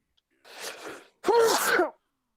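A single human sneeze: a short breathy intake followed by a loud, sharp voiced burst, close and isolated in an otherwise quiet room.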